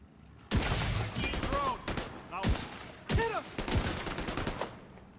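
Video game gunfire comes as a clattering burst of rapid shots with sharp individual cracks and whizzing ricochet-like sweeps, dense and close, with voices talking partway through.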